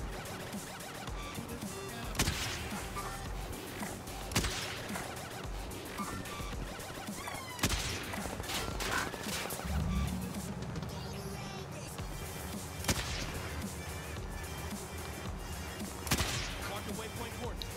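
Sniper rifle shots ring out in Warzone at spaced intervals, sharp loud cracks over ongoing game noise and engine rumble, with players talking throughout.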